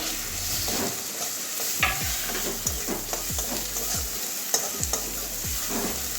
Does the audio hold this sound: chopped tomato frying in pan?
yes